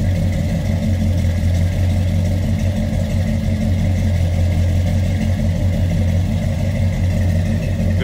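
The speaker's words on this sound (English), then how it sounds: "Good sounding car, that big block." Big-block V8 of a restored 1968 Chevrolet Chevelle Malibu idling, a loud, steady, deep rumble with an even burble that holds constant throughout, close up and without voices.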